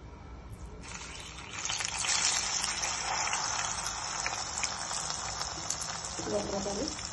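Medu vada batter dropped into hot oil, a broad steady hiss and bubbling that swells after the first second and holds close and loud throughout, with no talk over it.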